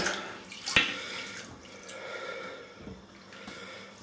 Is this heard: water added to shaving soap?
yes